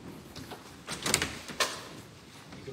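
A church door opens with a few scraping, rattling movements and a sharp knock of the latch or handle. The sounds are fairly close and stand out over soft room noise.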